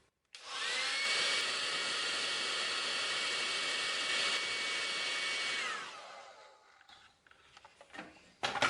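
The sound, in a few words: heat gun heating a PVC tube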